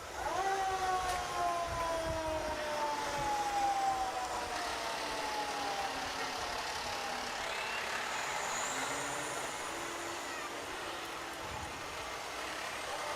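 A fire department ladder truck rolls past during an Independence Day parade on July 4, 2022, its engine rumbling with air brake hisses and a descending siren wail, loud and near before slowly receding.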